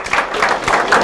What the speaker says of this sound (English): Thank you for a round of applause to her.